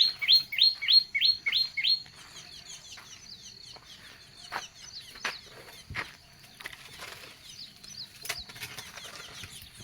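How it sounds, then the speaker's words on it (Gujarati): A sparrow chirps outdoors on a farm among trees, opening with a quick run of bright, loud tweets, then scattered softer calls and rustles follow over a quiet background. "જો અહીંયા બેઠી ચકલી।"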